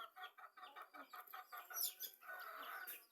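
Several chickens cluck and chatter in short, overlapping bursts close by, with a brief higher squawk partway through.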